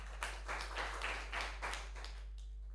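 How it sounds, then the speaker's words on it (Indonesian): Students in a classroom clapping together at the end of a lesson, a short run of rhythmic group claps, fairly near and moderate over a steady low hum. "tepuk tangan buat kita semuanya ya"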